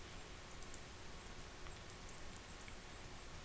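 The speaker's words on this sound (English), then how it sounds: "And of course, naturally, it's raining, because it's a sad time." Rain in the Seduce Me video game, a faint, steady hiss of falling rain with a few scattered drop ticks, continuous and unbroken, with no voices.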